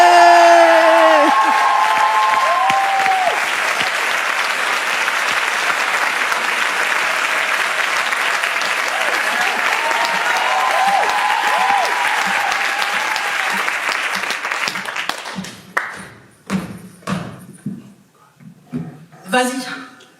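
An audience applauds and cheers loudly for a slam poet at a live performance, sustained clapping with whoops that fades out near the end as a voice begins speaking.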